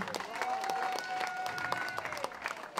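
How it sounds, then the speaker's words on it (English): Restaurant and bar audience at a live performance applauds a singer, light scattered clapping that stays fairly quiet and distant under a sustained tone. "I think I deserve a special round of applause."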